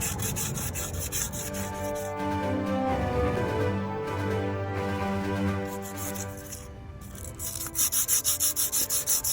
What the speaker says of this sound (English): just finally scratch up the surface